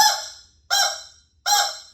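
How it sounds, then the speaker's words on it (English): A screaming rubber chicken toy is squeezed three times, each a loud, nasal, honking squawk that fades out, with short silent gaps between them and nothing else heard. "The super annoying but super cool screaming rubber chicken."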